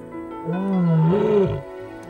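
A lioness in the wild calls out alone, one long, loud, low moaning roar that swells and fades over about a second, with quiet before and after.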